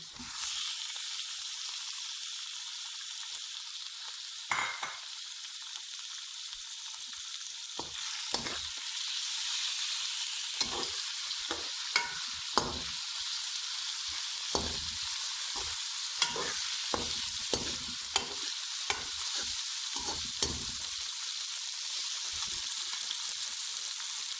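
Chicken sizzles steadily in a hot pan over fried onions, with intermittent clicks and scrapes from stirring throughout.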